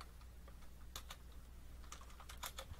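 Quiet clicking of keys on a computer keyboard as commands are typed into a Windows Git Bash terminal, a few irregular taps and short bursts with pauses between them.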